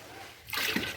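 Water scooped and poured from a garden guppy pond during cleaning, a quiet lull followed by one short, close splash and trickle.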